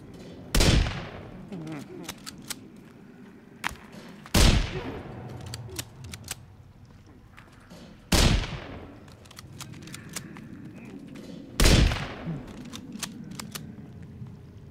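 Rifle fire in the Sons of the Forest video game: four loud, well-spaced single shots, each with a booming decay, over low background game ambience and small clicks.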